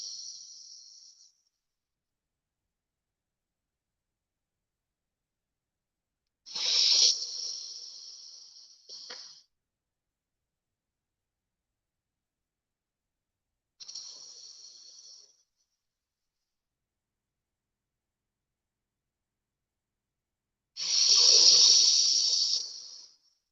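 Four bursts of loud, breathy hissing from a person drawing air in through the mouth during a breathing exercise, each lasting a second or two and separated by long stretches of silence.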